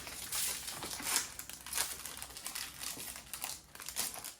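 A crinkly foil wrapper of a Pokémon trading card booster pack from the Destined Rivals series is worked open, with steady close crackling and crumpling rising in a few louder bursts.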